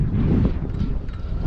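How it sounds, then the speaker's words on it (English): Wind buffets the microphone at an outdoor flying field where a 90mm AF-Models MiG-17 Fresco model jet is being flown, a loud continuous low rumble that swells and dips without pause. "Wind is serious."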